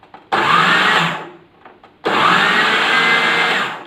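A food processor whirring a chocolate mousse mixture in two loud pulses, each a sharp-starting whine of about one to two seconds, separated by a short quiet gap.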